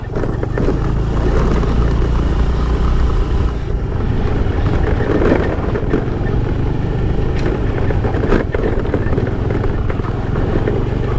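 A vehicle driving along a rough forest road in Sathyamangalam Tiger Reserve, a loud continuous engine and road rumble with rattling, steady throughout without talk.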